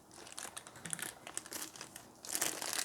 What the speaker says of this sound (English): Let me get this plastic off and I can take a better look at things